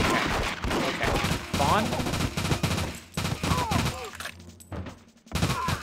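Rapid bursts of automatic gunfire in the N64 game The World Is Not Enough, loud crackling volleys repeating over a few seconds, with someone talking over the shooting.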